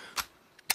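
Two short mechanical clacks from a gun being reloaded in the video game Days Gone, a sharp click followed about half a second later by a second, louder snap, close and alone.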